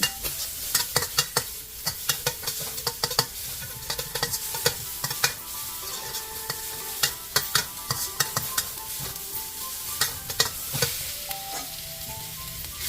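Crushed garlic paste sizzles in oil in a pan while a utensil repeatedly scrapes and stirs, producing sharp clacks over a soft, continuous frying hiss.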